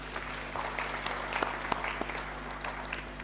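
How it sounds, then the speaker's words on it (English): Audience applause after a session at the 14th African Union High Level Private Sector Forum: a steady, moderate patter of clapping over a low room hum. "Probably we should give them another round of applause."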